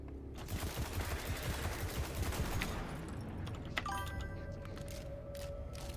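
Bursts of gunfire from a primary weapon in Destiny 2, fairly dense and steady over the first half, then fading into quieter game sounds with tonal interface beeps and isolated clicks.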